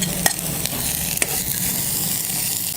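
Small chopped pieces of coconut fry in a hot kadai with a steady loud sizzle and a few sharp scraping clicks of stirring, and no talk.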